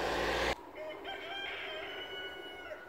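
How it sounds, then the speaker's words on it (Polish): Male turkeys on a farm give odd, drawn-out warbling calls, a few tonal cries following each other after a brief burst of loud noise, with steady background hum. "Nawet jakieś dziwne dźwięki wydają te indyki po tych paszach."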